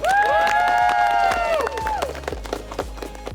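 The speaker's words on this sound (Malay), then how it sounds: "Berikan tepukan." Applause and cheering from an audience greet ten entrepreneurs on a business show. A bright musical swell sounds first, then scattered claps and crowd noise carry on beneath it.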